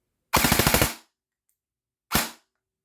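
An M4 airsoft rifle with a DSG gearbox firing full auto: a short, rapid burst of about seven snappy shots, then after a pause a single quick burst, close and crisp.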